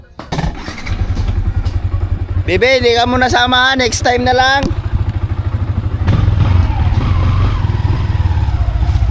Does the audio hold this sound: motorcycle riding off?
yes